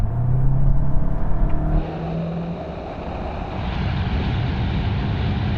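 A VW Golf GTI, Golf GTI Clubsport and Golf GTD accelerating hard in a rolling race from 50 mph, in comfort setting with automatic gearboxes kicking down; loud engine and road roar inside the cabin, pitch climbing then settling into a steady drone.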